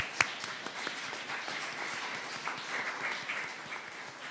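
A Korean congregation at Darmstadt Central Church applauds during an Easter Sunday service, steady rolling clapping from many hands at a moderate, distant level, with a single sharper clap standing out near the start.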